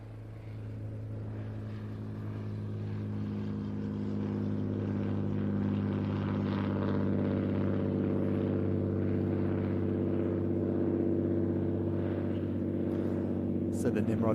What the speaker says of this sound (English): I think we need to show you the wonderful Nimrod taking off